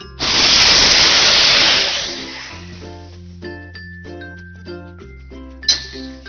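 Cut raw mango pieces dropped into hot oil with five-spice tempering, a loud burst of sizzling hiss that fades over two seconds, followed by soft clinks of a utensil against the pan.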